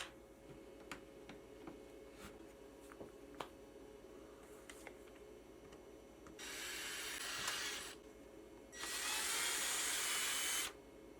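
Drilling a hole through a 3D-printed fan shroud for a UV-resin bottle tumbler, so a screwdriver can reach through. Two close, loud bursts of whining drill follow a quiet stretch of small clicks and handling taps, the second burst longer.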